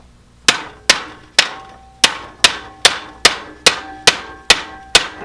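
A mallet taps a brace into a new replacement sling with about eleven sharp, evenly spaced knocks. Each strike rings briefly and fades, loud and close, with no voices.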